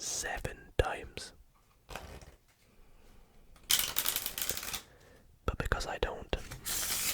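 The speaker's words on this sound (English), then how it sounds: "we need to shuffle the cards 7 times" Playing cards being shuffled close up in a quiet, intimate setting, with bursts of riffling and crisp card noise between stretches of soft whispered talk.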